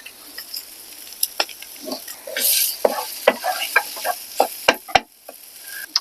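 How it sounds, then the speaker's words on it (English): Food sizzles steadily in a hot pan while utensils stir and scrape, giving sharp clicks and taps over the crackling fry. "It's sizzling."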